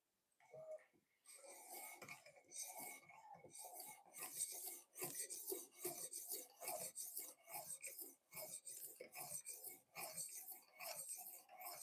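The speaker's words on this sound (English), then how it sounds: "Xarilk Gen 3 fixed angle knife sharpener" Boning knife drawn again and again across the stone of a Xarilk Gen 3 fixed-angle sharpener, a close, rhythmic series of rasping strokes with short pauses between them.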